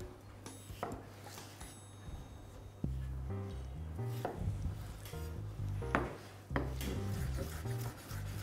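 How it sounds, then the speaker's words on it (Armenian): Fresh peeled cucumber being finely chopped with a knife on a board: a steady run of quick, close, crisp knife taps in uneven bursts, with no talking. "և մանր կտրատում"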